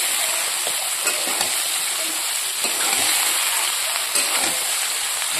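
Chickpeas and peas sautéing in a pan on a home kitchen stove give off a steady, fairly loud sizzle and hiss with occasional stirring scrapes, with no talk over them.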